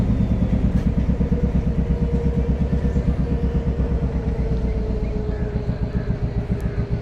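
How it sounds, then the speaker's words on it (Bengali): A riverboat's motor runs steadily as the boat nears the landing ghat at Mayapur, a loud, continuous low throbbing with a fast regular pulse and no voices over it. "আমাদের নৌকা কিছুক্ষণের মধ্যে ঘাটে পৌঁছাবে"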